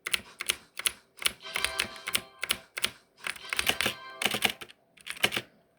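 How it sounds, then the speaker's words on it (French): Loud, close computer keyboard typing in quick irregular bursts of clicking keys, with short pauses between flurries. "si vous aimez pas le son de mon clavier"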